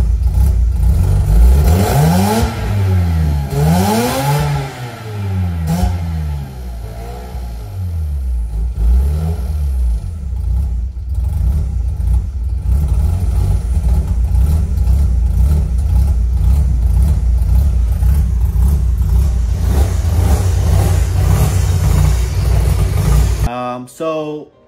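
Mazda RX-8 rotary engine, part of a hybrid build, running loud and close with a rough, uneven idle and a few early revs, under faint talk, cutting off abruptly at the end.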